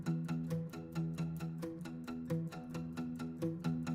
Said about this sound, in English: these original acoustic guitars for verse 2 sound like this.